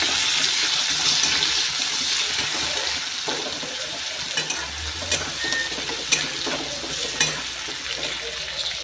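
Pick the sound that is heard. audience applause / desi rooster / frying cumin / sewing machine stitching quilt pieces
frying cumin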